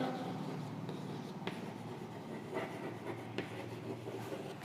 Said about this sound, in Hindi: तो मैं लिख लेता हूँ